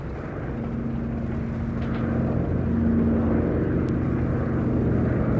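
Twin piston-engined Douglas DC-3 Dakota propeller airliner flying past at a VE Day air show, a steady loud droning engine roar with a low humming tone that swells slightly and holds throughout, with no voices.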